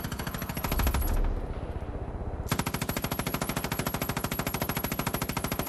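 Rapid automatic gunfire from the video game Far Cry 5, a steady machine-gun-like rattle of evenly spaced shots that pauses briefly and then resumes, loud and continuous with no talk over it.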